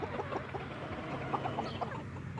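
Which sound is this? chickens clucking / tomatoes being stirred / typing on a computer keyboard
chickens clucking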